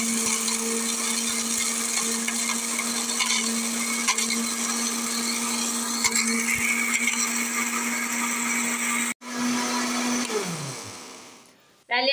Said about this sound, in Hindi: और उसके बाद आपने जूसर मशीन लेकर तो इसको ग्राइंड करना है।